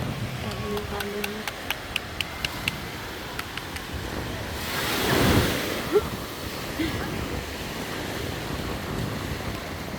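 Ocean waves wash onto the beach at Noja, Cantabria, Spain, with a soft surf roar swelling midway under steady wind noise and a few faint taps.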